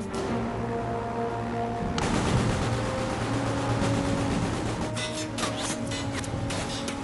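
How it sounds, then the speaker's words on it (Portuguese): Rapid bursts of machine-gun fire from a British fighter-bomber crackle over a steady engine drone as it strafes a submarine's crew on deck, dense and continuous, with sharper volleys toward the end. "enquanto o caça-bombardeiro britânico os cobre de disparos de metralhadora"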